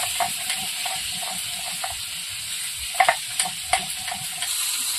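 Laufoli river fish frying in a pan, a steady close sizzle with bursts of spattering crackle and a few sharp pops toward the end.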